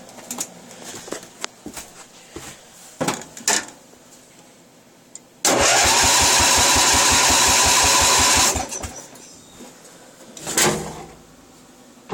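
A car engine cold-starting at 20 degrees: a loud cranking burst with rapid regular pulses runs for about three seconds, then stops abruptly, with scattered handling knocks before and after.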